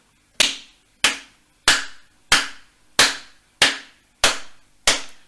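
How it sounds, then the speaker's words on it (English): Eight sharp hand claps land at an even, steady pace on crotchet beats in a primary classroom, each crisp and close with a short ringing tail, and no talk between them. "Listen as I clap that."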